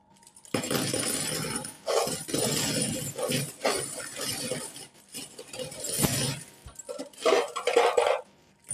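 Coins clatter and jingle in repeated bursts as they are poured out of a piggy bank, a close metallic rattling with brief pauses between pours.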